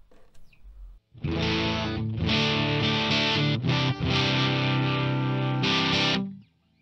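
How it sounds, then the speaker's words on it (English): A dense, gritty electric guitar with natural amp overdrive from a Dumble-style amp plugin rings out in sustained chords with a couple of brief breaks, loud and close, then cuts off. "it's cool that you get natural overdrive of the amp."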